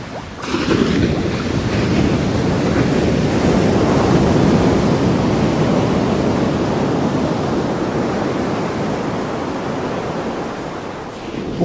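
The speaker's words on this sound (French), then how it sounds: "les vagues frappent sans cesse les mêmes rochers aux mêmes endroits" Mediterranean sea waves crash steadily against rocks, a loud, continuous broadband roar and wash with no pauses and no voices.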